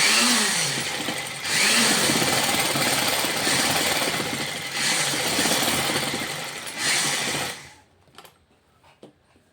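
An electric sewing machine stitching a princess-cut blouse runs in a loud, continuous mechanical whir with slight surges, then cuts off near the end and leaves a few faint clicks and handling noises.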